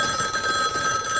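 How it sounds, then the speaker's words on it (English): A landline telephone rings steadily with a bright, continuous electric bell tone in a house in the 1974 horror film Black Christmas, filling the whole short moment at a moderate, close level with no voices. "Your phone's ringing."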